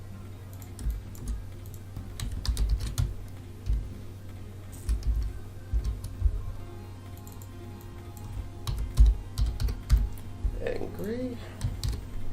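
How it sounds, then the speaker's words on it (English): Computer keyboard typing comes in irregular bursts of close, crisp key taps, with a person talking briefly and a low hum underneath. "now my keyboard's working"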